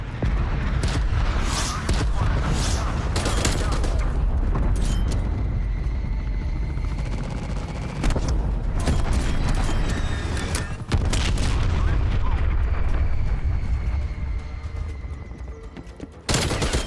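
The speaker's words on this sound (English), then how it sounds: "Cruise missile inbound." Dense Call of Duty Black Ops Cold War battle: continuous loud gunfire bursts and booming cruise missile explosions over a helicopter-like rumble, with sharp impact spikes through the whole stretch.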